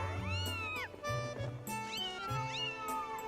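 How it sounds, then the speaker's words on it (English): Cat meowing in the video game Zelda: Skyward Sword HD, three drawn-out, rising-and-falling meows spaced about a second apart, close and clear over light game background. "Hold on, there's the cat."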